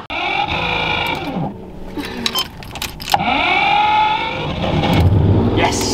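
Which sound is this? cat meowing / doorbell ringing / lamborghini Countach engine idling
lamborghini Countach engine idling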